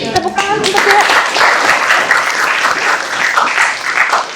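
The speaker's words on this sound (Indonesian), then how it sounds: "Tepuk tangan untuk dia." A classroom group applauds a student, loud dense clapping rising quickly and holding steady, with a voice speaking over the first moments.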